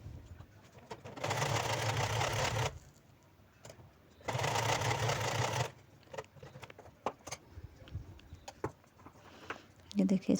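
Sewing machine stitching fabric scraps into a soft doormat, two loud steady whirring bursts of stitching separated by quiet handling, fabric rustling and small clicks, with faint speech in the background.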